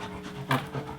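A dog pants in quick, breathy bursts, close by, with one louder huff in the middle of the short stretch and no talking.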